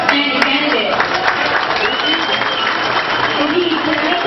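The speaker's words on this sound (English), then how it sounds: "let's give them a round of applause, our outstanding candidates" Applause for candidates at a Binibining Pilipinas beauty pageant opening in Diego Garcia, 2010, a dense sustained wash of clapping from a crowd, fairly loud and continuous with voices mixed underneath.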